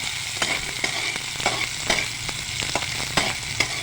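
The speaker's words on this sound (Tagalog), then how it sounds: "luya, siling labuyo yan halo-halo muna natin" Garlic, ginger and hot labuyo chilies sizzle in oil in a pan while a utensil stirs them, giving a steady frying hiss broken by regular scraping strokes close by.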